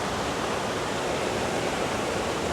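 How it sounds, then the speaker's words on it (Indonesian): A small waterfall at Krueng Kaleung in Lamno, Aceh Jaya, pours into flowing water below, a loud, dense, unbroken roar of rushing water filling the whole moment. "itu air terjun dari depan kita ngalir ke sini, dan ke sana"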